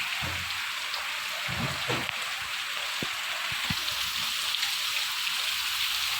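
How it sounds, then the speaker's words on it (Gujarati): Heavy rain pours steadily in a dense, continuous hiss, with a few low thuds and knocks breaking through the downpour. "જોઈ લ્યો મિત્રો વરસાદ વધી ગયો વધી રહ્યો છે"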